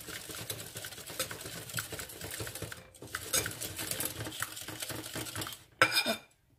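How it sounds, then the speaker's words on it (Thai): Egg and sugar batter for an apple cake is stirred briskly in a bowl, a utensil clinking and scraping rapidly, pausing briefly, then resuming before a final louder knock. "คนเข้ากัน"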